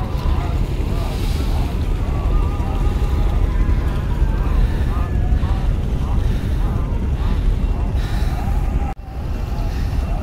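Several passenger river launches on the Meghna in Bangladesh turn together, leaving steady broadband engine and water rumble with wind buffeting. A murmur of people sounds in the background, and a brief dropout comes near the end.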